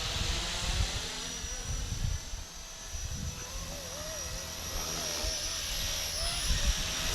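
A Blade SR radio-controlled helicopter flies on a windy day, its high electric whine and rotor drone shifting in pitch as it maneuvers, with wind buffeting in the background.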